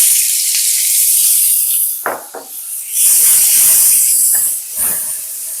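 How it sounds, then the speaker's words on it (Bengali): Cauliflower pieces fry in hot oil with a pinch of turmeric for a bhangar fish dish, giving a loud, hissing sizzle that swells and fades in bursts, with crackling spatters and no talk. "ফুলকপিগুলোকে আমি ভেজে নেব।"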